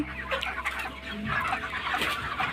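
A flock of broiler chickens near harvest age clucks continuously at close range, a busy overlapping chatter of soft calls with no voices.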